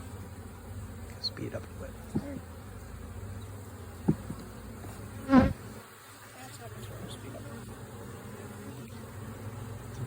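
Honey bees swarm around an open hive while a package of bees is installed, making a steady, close, continuous buzz with a few louder passes near the ear; a brief spoken remark cuts in.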